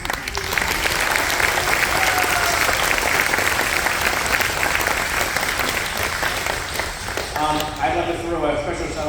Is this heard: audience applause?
yes